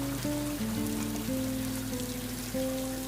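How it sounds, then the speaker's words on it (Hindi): Heavy rain hisses steadily and densely throughout, with a soft, sustained musical melody playing beneath the downpour. "देखो बाहर कितनी तेज बारिश हो रही है"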